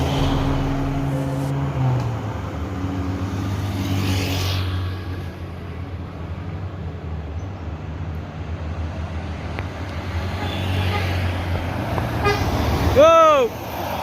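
A premium intercity bus's horn blares out near the end, a loud multi-tone melodic toot with warbling pitch, rising over steady engine and road rumble as the vehicles pass each other.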